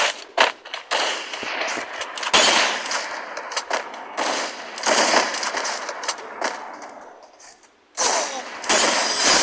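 Shotgun fire in a video game rings out in a rapid series of loud blasts with short gaps, a long pause, then more shots near the end.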